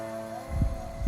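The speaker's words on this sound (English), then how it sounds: "I hear a heartbeat." Low, soft heartbeat thumps pulse twice in slow rhythm beneath a steady tonal hum, close and muffled with no talking.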